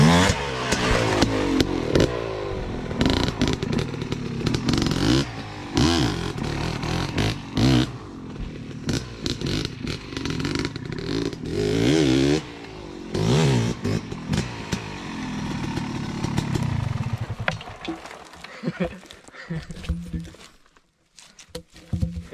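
A Yamaha YZ 250 two-stroke dirt bike rides through the woods, its engine revving and bogging continuously up close for about twenty seconds before dropping away near the end, with voices intermittently audible.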